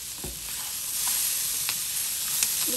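Bottle gourd skin frying in a pan gives a steady, close sizzle throughout, with a few faint stirring clicks and scrapes and no voices.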